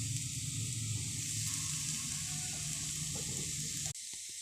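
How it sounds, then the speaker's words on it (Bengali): Potato slices with neem leaves frying in a pan give a steady, close sizzle that runs unbroken for several seconds, then drops off abruptly near the end. "আর একটু লাল করে ভেজে নেব।"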